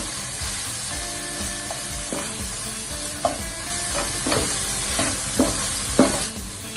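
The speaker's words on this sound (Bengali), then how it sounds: "রসুন বাটাটা দিয়ে দিচ্ছি, শুকনো মরিচের গুঁড়া দিয়ে দিলাম। মিক্স করব খুব ভালো হবে।" Garlic paste and dried chili powder are stirred in a sizzling pan, a continuous close frying hiss broken by repeated scraping strokes of a spatula against the pan, steady and alone.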